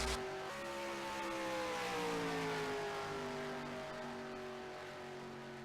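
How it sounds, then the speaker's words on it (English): Stock race cars roar around an oval track during a 200-lap race, a steady loud engine drone with rising and falling pitch as the field passes. "I believe we had about 29 cars take the green flag here tonight."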